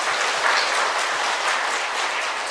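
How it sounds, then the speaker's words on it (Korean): A church congregation at a special dawn prayer service claps together in a steady, dense burst of applause that fills the room at even loudness throughout. "우리 더 감사해서 우리 박수 한번 해드리십시다"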